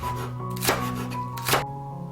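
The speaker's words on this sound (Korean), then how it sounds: "대파 한 대는 길게 반으로 썰어서 송송 썰어 주세요." Two crisp knife strikes on a cutting board chopping green onion, close and isolated, evenly spaced under a faint steady background hum.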